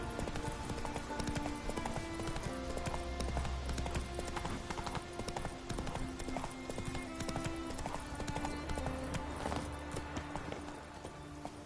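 Roach the horse clip-clops along in The Witcher 3 video game, with steady, rapid hooves under game music and ambience, and occasional voices nearby.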